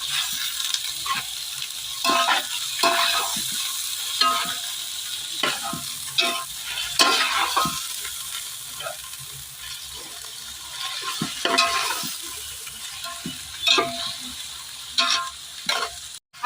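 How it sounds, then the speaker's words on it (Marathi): Chicken is sautéed in oil with onion for a dry village chicken dish, a constant close sizzle broken by frequent sharp scraping and clattering stirs of a spoon against the pan. "आता तेलामध्ये चांगलं चिकन परतून घेतलं"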